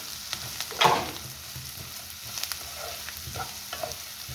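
Beetroot fry tossed with chilli powder and masala powder in a pan: a soft sizzle with gentle stirring strokes and one sharper scrape near the start, close and without talk.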